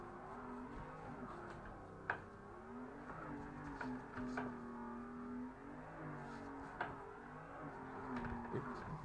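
A car drifting as the driver eases off and throws the throttle: the engine note dips and surges in waves, with a few sharp clicks or bumps, fairly distant under faint background talk.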